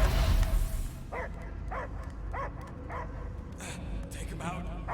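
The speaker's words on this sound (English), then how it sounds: "I hear only barking." A dog barks in short, repeated bursts in the Marvel's Guardians of the Galaxy video game, with each bark spaced out evenly over a droning background hum.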